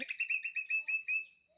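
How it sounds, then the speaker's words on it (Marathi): A squirrel calls nearby in a quick run of about ten sharp, bird-like chirps, clear and alone, trailing off at the end. "ते खारुताई अशी ओरडते"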